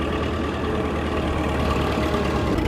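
A tractor engine runs steadily during a village ride on a cooling evening, a continuous low diesel rumble close by with no talk over it.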